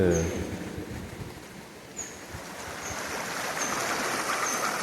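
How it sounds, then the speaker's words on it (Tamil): Forest stream on a wildlife trek at Topslip: clear water flows in a constant broadband rush, with a few brief high bird chirps scattered above it and no one speaking. "தண்ணி சவுண்டு வருங்க"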